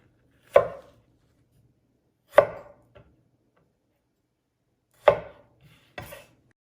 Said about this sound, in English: we're going to cut the tomatoes into small chunks